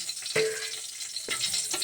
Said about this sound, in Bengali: প্রথমে শুকনো লঙ্কাটাই দেওয়া হয়েছে, শুকনো লঙ্কা ফোড়ন